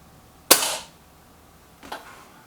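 A Benjamin Akela air rifle fires a single sharp shot in a garden at a target about 23 metres away, followed by a much fainter second crack, likely the pellet striking, a moment later. There is no talking.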